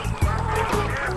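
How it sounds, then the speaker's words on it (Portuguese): Wild ducks by a lake give loud, close honking quacks in quick succession, nasal and overlapping, with no speech. "encontrou um lago onde patos selvagens brincavam alegremente"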